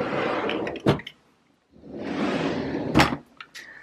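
A makeup drawer sliding open and shut twice, each a rolling scrape ending in a sharp knock, with a short silent gap between, close and clear.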